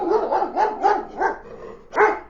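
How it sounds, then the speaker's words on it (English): A dog barks loudly indoors from a bed, five sharp barks in quick succession with a short pause before the last, close and clear with no talk. "she barked loudly and jumped off the bed"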